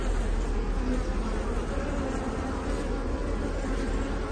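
Honeybees swarm around an opened hive during a colony split, their dense, steady buzzing loud and close throughout with no pause.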